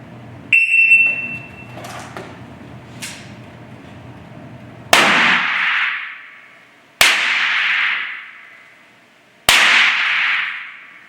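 Handgun shots ring out on a proficiency test range, four sharp, loud reports spaced a couple of seconds apart, each followed by a decaying echo, after a brief electronic beep and some handling clicks.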